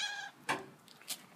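A cat gives a short, fairly quiet meow, followed by a couple of brief, fainter vocal sounds in a quiet room.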